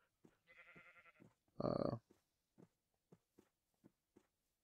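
Sheep bleating in a farming video game, one loud, strained bleat rising out of quieter game sounds, with a faint earlier tonal call and soft scattered footstep-like clicks afterward.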